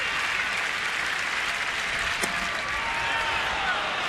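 A baseball crowd in a Marlins at Nationals game claps at the end of an inning, a steady wash of applause and murmur from the stands, with an announcer talking over it.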